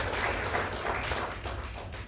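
Short burst of audience clapping at a youth event as a guest is welcomed, moderately loud and steady, with no voices over it.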